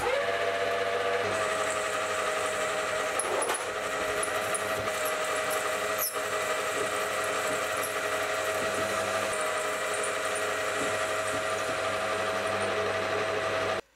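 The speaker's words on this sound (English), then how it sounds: "So the first thing that we'll do is clean up that piece of aluminium." Aluminium round bar being machined to clean it up, likely on a lathe: a steady, continuous machine whir with a high metallic whine running throughout at close range, with a brief sharp squeal partway through and no talk.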